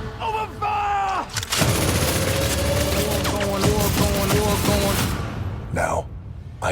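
Heavy gunfire bursts in an action film trailer, loud volleys and rapid shots layered under a booming orchestral score, with brief voices breaking through near the end.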